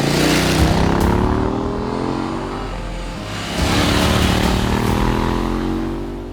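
A 2026 KTM 990 Duke R motorcycle with a 947cc parallel twin engine, loud nearby revving that climbs through gears, drops briefly, then pulls hard again.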